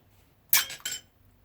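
A small metal spoon is dropped into a container of water for a sinking experiment, giving two quick bright clinks a moment apart and then silence.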